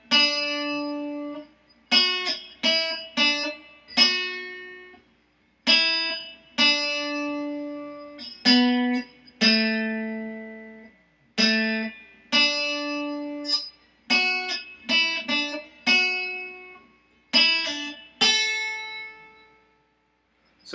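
Amazing Grace is picked slowly on a cigar box guitar, single plucked notes ringing out one at a time with clear gaps and decay, close and solo.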